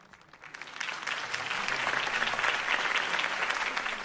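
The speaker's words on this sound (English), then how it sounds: "could have heard that applause" Video game crowd applause from Batman swells from quiet to a steady, dense clapping that continues loudly to the end.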